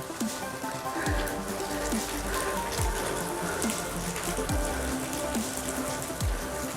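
Steady rain falls on the sheltered stone steps of a hilltop temple, a dense, even patter with dripping water, continuous and close with no voices.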